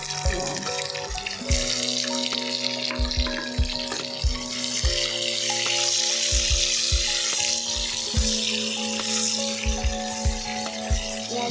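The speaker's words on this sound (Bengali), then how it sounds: "এবার এই কড়াইতে মাছটা ভেজে নেব" Bhetki fish frying in oil in a kadai with whole cumin, a continuous close sizzle punctuated by repeated knocks and clinks of a utensil against the pan.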